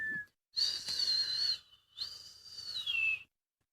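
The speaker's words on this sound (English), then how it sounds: "I really can't whistle. However, the whistle I do works really well for dogs." Two long, high-pitched whistles from a person, a dog-calling whistle, each held for about a second with slight pitch wavering, close and fairly loud.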